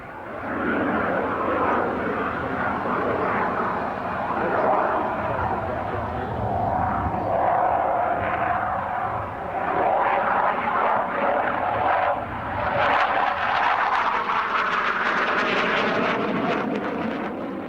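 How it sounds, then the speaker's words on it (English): A military jet flies past at the 2003 Australian International Airshow, its engine roar a loud, continuous broadband rush that swells near the end as it passes. "The performance of the aircraft varies a great deal as you go high"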